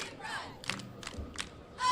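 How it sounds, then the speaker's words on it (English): Cheerleaders shouting a rhythmic chant at a high school football game, several voices calling out in short bursts with claps and crowd noise in the background. "the cheerleaders are cheering"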